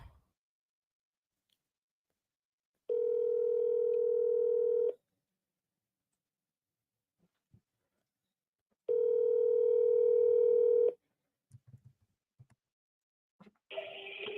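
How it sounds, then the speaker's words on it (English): A telephone ringback tone on an outgoing call, two long steady rings a few seconds apart, loud and close, followed by faint clicks and the start of a voice. "I'm double dialing this guy."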